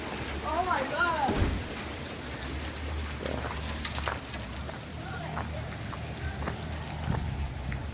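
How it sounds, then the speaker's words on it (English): Heavy February hailstorm outdoors, with big hailstones pelting surfaces in a dense, continuous clatter and patter. Excited voices exclaim intermittently over the noise. "Big hailstones too."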